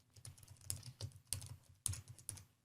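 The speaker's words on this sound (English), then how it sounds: "simply click and start typing" Quiet typing on a computer keyboard: a short run of soft, irregular key clicks and taps, close but faint, with a few sharper keystrokes standing out.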